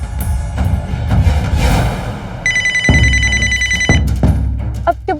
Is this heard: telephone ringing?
yes